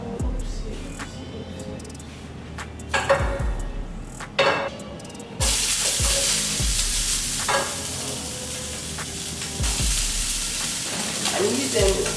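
A spoon clinks and scrapes as Aunt Jemima pancake mix is stirred with milk in a bowl, with close, uneven stirring strokes and a steady wet swish in the second half.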